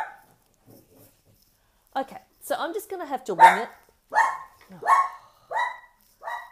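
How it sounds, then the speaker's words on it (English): A small pet dog barks several times indoors, a short run of sharp yips and barks following a brief spoken line, fairly close and clear. "Oh, and that's my dog"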